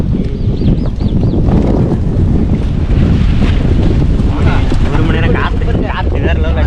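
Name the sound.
strong wind at top of palm tree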